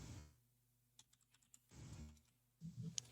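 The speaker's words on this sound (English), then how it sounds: "I was typing something in the chat" Computer keyboard typing, a quiet run of light, irregular key taps close by, set between soft bursts of background noise with no talking.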